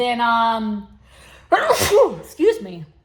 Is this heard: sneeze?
yes